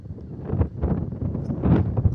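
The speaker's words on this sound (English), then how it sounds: "because it's such a windy day" Strong wind gusts buffet the microphone on a city beach, a loud, continuous low rumble and roar swelling and dipping throughout.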